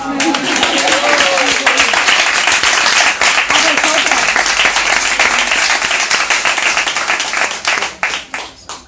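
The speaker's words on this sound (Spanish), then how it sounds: "Un aplauso para Olaya también," An audience at a lecture colloquium in Gijón claps for Olaya, a full, dense round of applause that holds strong, then breaks into scattered individual claps as it fades out.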